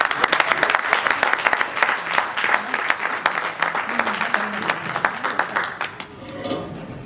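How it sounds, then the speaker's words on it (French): A wedding crowd in Paris applauds and cheers for the family, steady loud clapping mixed with voices that fades out near the end. "Est-ce qu'on peut acclamer pour la famille?"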